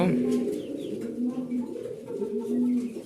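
A pair of Grizzle Beauty Homer pigeons coo repeatedly up close, soft low throaty calls in rhythmic bursts.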